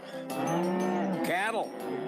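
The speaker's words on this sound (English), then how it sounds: "Cattle." A single cow gives a loud, close moo that rises, then bends into a second wavering call, with no other sounds.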